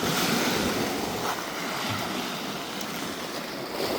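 Ocean waves at high tide on Crescent Beach, a steady close wash of surf mixed with wind noise and no voices.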